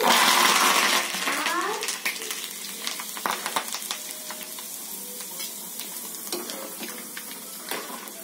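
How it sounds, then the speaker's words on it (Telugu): Mustard seeds, cumin and curry leaves crackle and sizzle in hot oil for a fish curry tempering, loud spluttering at first then settling into a steady fry with scattered pops and stirring taps. "ఆవాలు, జీలకర్ర, కొంచెం అవి వేగిన తర్వాత కరివేపాకు వేసుకుందాం."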